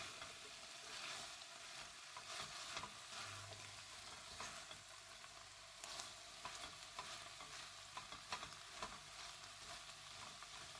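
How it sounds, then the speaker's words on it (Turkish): Fresh green beans and meat are stirred in a pot, a close sizzle running underneath while a spoon scrapes and clinks at irregular intervals, with no talking. "Fasulyeleri ekledikten sonra güzel bir şekilde karıştırıyorum"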